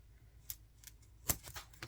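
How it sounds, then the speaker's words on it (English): Tim Holtz scissors cut paper, giving a few short, crisp snips spaced irregularly over a couple of seconds. Close but quiet, in a still room with no talking. "I need my Tim Holtz scissors"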